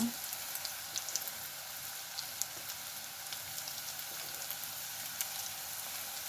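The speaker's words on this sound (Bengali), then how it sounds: "গোটা গরম মশলাগুলো দিয়ে দিব।" Whole garam masala spices frying in a kadai, a steady soft crackle and fine sizzle with scattered pops, close but quiet and continuous throughout.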